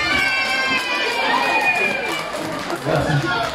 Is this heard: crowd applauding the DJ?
yes